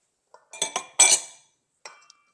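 Melted butter whisked into pancake batter in a bowl: a few quick clinking strokes of the whisk against the bowl, a louder burst, then a final light tap, close and alone.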